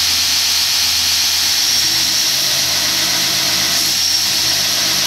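A belt grinder shaping a knife made from round bar stock, giving off a loud, steady high-pitched whine and hiss that runs without a break, close by and with no talking.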